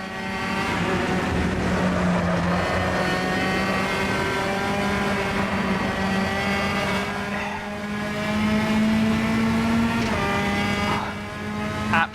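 Race car engine from a touring car in Automobilista, a steady high droning whine holding near and loud through corners with slight rises in pitch and occasional tire noise, no talk.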